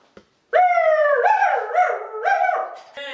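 A man imitates a dog with a drawn-out howl, a loud wavering wail that bends up and down in pitch for about two and a half seconds after a short silence.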